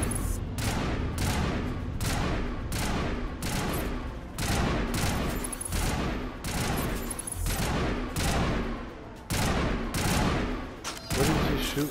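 Gunfire in Mass Effect crackles in dense repeated volleys of loud, close shots, with short bursts separated by brief pauses throughout.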